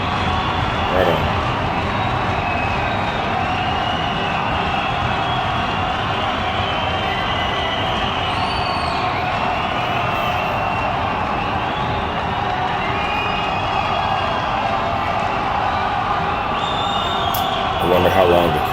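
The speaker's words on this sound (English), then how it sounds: "I wonder how long the crowd's gonna be there, roaring and applauding" A large concert crowd at Earl's Court after a show keeps up a steady, dense roar of cheering and applause, continuous and far-reaching with no letup.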